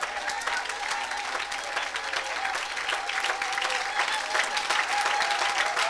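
A church congregation applauds steadily through the whole six seconds, a dense, even crowd clapping that swells slightly toward the end, with faint voices mixed in.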